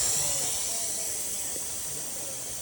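Irrigation stick spray nozzles mixed with variable adjustable nozzles spray water in a steady, hissing rush that holds evenly throughout, fairly close and with no talking.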